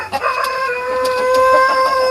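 A rooster on a small farm crows one long, drawn-out call with a strong tonal ring, close and loud, with light clucking from nearby hens at the start.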